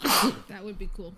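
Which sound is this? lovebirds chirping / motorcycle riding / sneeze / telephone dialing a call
sneeze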